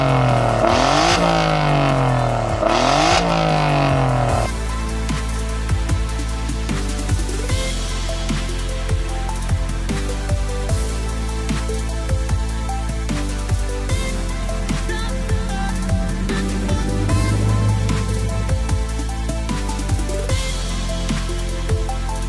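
A 2018 Alfa Romeo 4C roars loudly at a 4C Passion Meeting in Interlaken, with two sharp revs up close at first, then a sustained engine drone with rising and falling notes.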